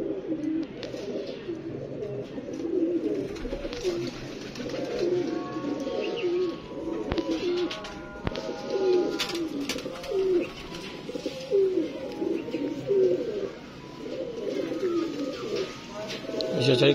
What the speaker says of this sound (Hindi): सफेद कबूतर है